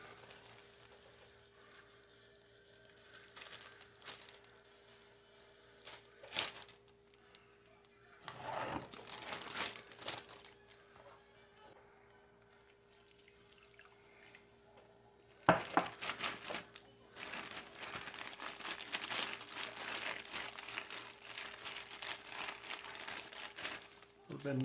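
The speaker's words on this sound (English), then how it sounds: "Using Ziploc bag, we're going to put all the meat in here with the marinade, get as much air out of the bag as possible" A Ziploc bag crinkles and rustles in bursts as beef and teriyaki marinade are packed into it, with quieter handling between louder stretches of plastic crumpling.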